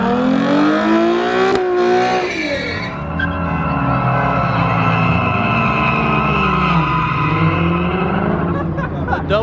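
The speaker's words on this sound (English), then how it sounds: "Dang, listen to that turbo." A turbocharged Subaru revs hard while doing donuts, its engine rising and falling in pitch with tire squeal and a turbo whoosh, loud and close with a voice briefly heard over it.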